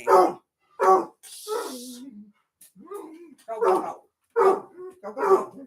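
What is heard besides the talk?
Basset hound dog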